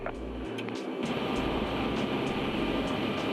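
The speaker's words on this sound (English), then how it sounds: "open sky 19 Tango, clear for takeoff on a 25" A fixed-wing Open Skies Treaty observation aircraft accelerating down runway 25 on its takeoff roll, a loud, steady engine roar with broadband rumble that swells slightly after the first second and holds continuously.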